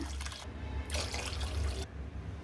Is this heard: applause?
no